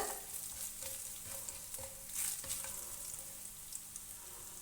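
Crushed fennel seeds roast in a hot pan for a Kerala-style egg roast, giving a soft, steady sizzle with a few light scraping stirs and no voices.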